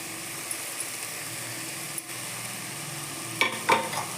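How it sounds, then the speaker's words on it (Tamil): Coriander leaves and grated coconut stirred in a pan for a kongu-style chutney give a soft, steady sizzle, with a few sharper scraping knocks near the end. "இப்போ ஒரு 2 நிமிஷம் நல்லா வதக்கிக்கலாங்க"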